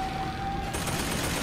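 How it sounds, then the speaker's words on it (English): Rapid machine gun fire in a shooter video game, a dense burst that grows louder and busier partway through, with a steady whine underneath at first. "what was that machine gun?"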